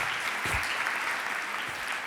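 Steady audience applause fills a conference hall as a guest stands to be recognised at a marketing talk, a dense even clapping with no gaps and no speech over it.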